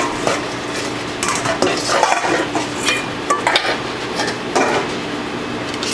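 Butter being cut into biscuit dough in a bowl, a run of dense irregular scraping, tapping and clinking from a utensil against the bowl, close and fairly loud, with no talk.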